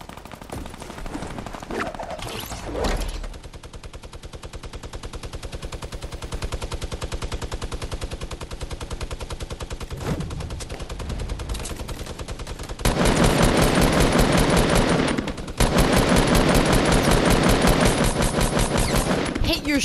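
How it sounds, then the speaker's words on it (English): Minigun fire in the video game Fortnite, long sustained rapid bursts that are loud and continuous, getting stronger in the second half with a brief break between bursts. "Shots! Wow. This guy is a minigun maniac."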